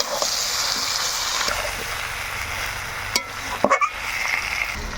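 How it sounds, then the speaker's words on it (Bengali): Mutton trimmings and ash gourd sauté in a pan, giving a steady soft sizzle with occasional stirring scrapes and a few louder clinks near the end, heard close with no talk. "আমরা খাসির ছাটগুলা বেশ খানিক্ষণ ধরে সুন্দরভাবে কষিয়ে নিয়ে এই সময় দিব চাল কুমড়া"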